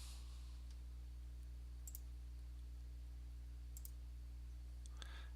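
A computer mouse gives a few faint, sparse clicks at irregular intervals over a constant low electrical hum, with no talk.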